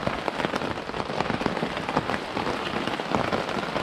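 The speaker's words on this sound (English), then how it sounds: "it's been pouring down with rain for quite a while now." Heavy rain pours down on a campsite, a dense, steady patter of drops striking surfaces close by, loud and continuous with no voices.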